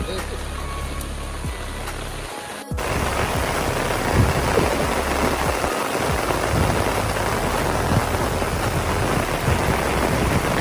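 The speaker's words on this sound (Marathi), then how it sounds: "पाऊस आला समोरचं काही दिसत नाही." Heavy rain pours down during coastal crab catching. After a brief quieter opening, a dense, loud hiss of downpour takes over and continues steadily, with a voice talking at times.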